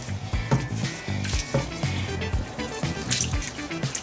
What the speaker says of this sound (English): Time to remove the dirty water.